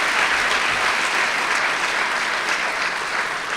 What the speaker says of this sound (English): So let's have a round of applause for our associate sponsors.